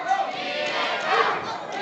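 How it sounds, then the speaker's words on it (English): A wrestling crowd roaring and chanting for Diego De La Cruz, a dense sustained wall of voices with shouts rising out of it. "Crowd getting behind Diego here on the outside"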